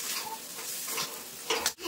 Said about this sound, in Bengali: এরকম নাড়তে নাড়তে কিন্তু শুকিয়ে যাবে, এরকম নাড়বো